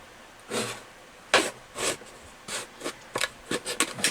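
A plastic brine shrimp hatchery container being cut, a series of short scraping snips and rasps, first spaced apart and then coming quicker near the end, close and fairly loud with no talk.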